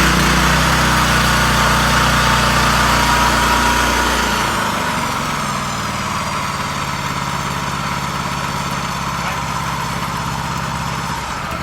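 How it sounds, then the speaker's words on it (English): A small pressure jetter engine, HP201SAE, runs loudly, revving high before dropping to a lower, steady idle that hums on to the end. "just to show you the machine firing up and dropping down in revs"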